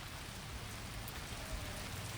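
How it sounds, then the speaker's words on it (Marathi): Heavy monsoon rain pours steadily over the Malshej Ghat hills, a dense even hiss with no pauses and no voices. "मित्र बघा किती धोधो पाऊस कोसळतोय"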